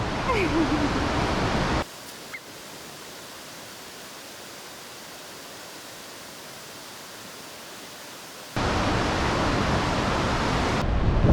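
Loud broadband roar of Roaring River Falls in Kings Canyon National Park, dropping to a softer hiss in the middle before surging loud again; no clear speech.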